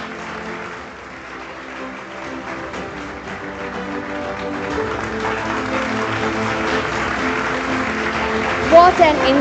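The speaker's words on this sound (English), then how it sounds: "Let's all give her a big round of applause." An education award ceremony audience applauds a teacher award winner, clapping building gradually under music into a fuller, louder wash toward the end.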